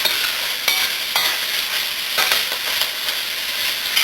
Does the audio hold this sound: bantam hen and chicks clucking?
no